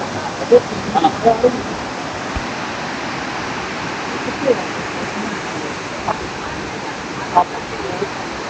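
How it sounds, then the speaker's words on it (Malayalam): A forest waterfall in Silent Valley pours with a steady, dense rushing roar that fills the whole stretch, while a few faint voices briefly surface over it. "അടുത്ത സ്ഥലത്ത് അടുത്ത വെള്ളച്ചാട്ടം എത്തി"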